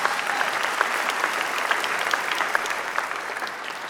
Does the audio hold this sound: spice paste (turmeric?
no